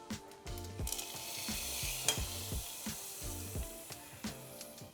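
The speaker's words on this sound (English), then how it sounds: "Splutter a teaspoon of mustard seeds. Add a sprig of curry patta and just lace the curry with this tadka." Hot tadka oil with mustard seeds spluttering as it is poured into a Goan curry, a loud continuous crackling sizzle with rapid popping close by, no talking.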